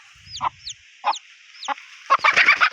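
Several short clucks from a chicken, spaced about half a second apart, followed by a busier burst of overlapping clucking and squawks, fairly close.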